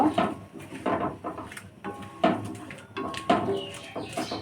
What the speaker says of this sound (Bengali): তো এটা এবার আমি ভালো করে নাড়াচাড়া করে আমি ঢেকে দিয়ে কিছুক্ষণ রান্না করে নেব।